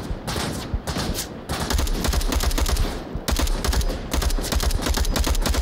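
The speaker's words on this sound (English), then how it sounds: "stop shooting at me" Rapid automatic gunfire in a VR shooter game, with dense bursts of shots fired at the player almost continuously and only brief pauses between volleys, loud and close.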